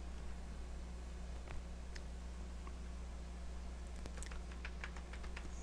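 Light, quiet typing on a computer keyboard, with scattered soft key clicks that pick up into a quicker patter toward the end, close by and alone.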